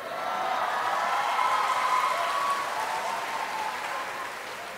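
Loud, sustained applause from a large crowd at a university graduation ceremony for USU graduates, with dense, even clapping filling the whole stretch and fading only slightly at the end.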